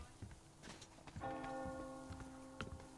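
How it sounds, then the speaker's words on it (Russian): Church bell ringing in the video game Metro Exodus, a single sustained toll ringing out over faint footsteps and background game noise. "Он слышит колокол."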